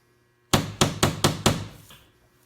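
Five quick metallic taps of a small hammer on a car body dent, in an even rhythm, close and crisp, with a brief ringing tail after the last strike.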